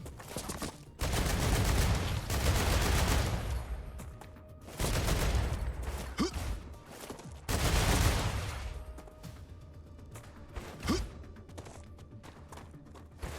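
Enemy gunfire in the sci-fi shooter game StarRupture: loud, dense bursts of rapid automatic fire in long sustained volleys, pausing between, with sharp single cracks standing out near the end.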